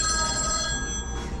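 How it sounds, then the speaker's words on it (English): A telephone bell rings in a steady, sustained electronic trill at a wax museum and oddities attraction, heard briefly at moderate distance over room ambience. "stop ringing the dang phone"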